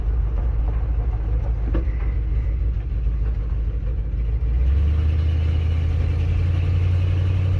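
Ford F100 truck engine with a fault, running steadily with a low, loud rumble that deepens and swells about two-thirds through as the throttle opens hard on a driveway.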